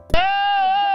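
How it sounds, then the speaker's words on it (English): A goat tied to a tree in Peru lets out one loud, sustained bleat that sounds eerily like a man yelling, close and alone for about a second. "a goat is yelling like a man while tied up to a tree in Peru"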